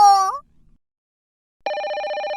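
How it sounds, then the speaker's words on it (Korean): A mobile phone rings with a steady, continuous electronic ringtone that starts abruptly after a short rising tone and a moment of silence, then holds loud and close. "오늘 내 휴대폰 불나네"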